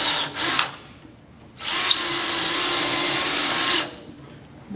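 A power drill bores into wood for spiral turning, a brief whine followed by a longer steady high-pitched run of several seconds, loud and close, with no talk.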